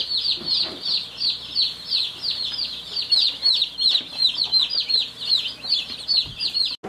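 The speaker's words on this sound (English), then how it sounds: "We got chickies!" A box of meat bird chicks just arrived by mail, peeping continuously in a dense, high chorus of many overlapping chirps, close and lively.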